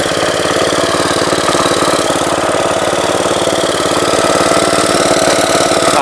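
Close and loud, a Gravely commercial tractor engine chugs in low range with a steady rapid knocking pulse and deep rumble, running unbroken for several seconds with nobody talking.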